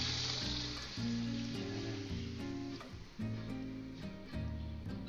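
Mung beans are poured into sautéed onion, garlic and tomato, and a steady, soft sizzle of frying runs throughout with faint stirring.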